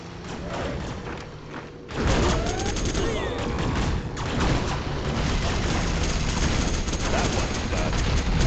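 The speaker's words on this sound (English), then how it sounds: "There goes our A10 strike" A-10 Warthog air strike in a video game, a sudden dense burst of rapid cannon fire and thudding impacts that starts abruptly after a quieter lead-in and rumbles on loudly to the end.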